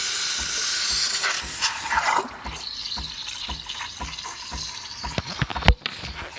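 Steam wand on a Breville Express BES870XL espresso machine: a loud, steady hiss of steam runs throughout, rising into a rougher, gurgling roar partway as the stream meets milk, with a few clunks, and no voices.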